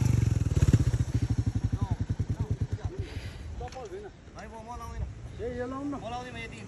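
A motorcycle crossing a stream near a waterfall, its engine chugging loudly and rhythmically up close for a few seconds before fading, followed by people talking and calling out over running water.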